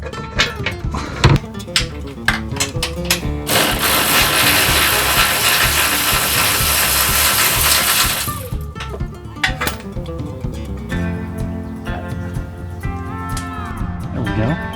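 A ratchet wrench works a rear suspension arm bolt on a Scion tC, giving rapid close clicking strokes, a long continuous whirring stretch in the middle, then more clicks, with someone talking at times.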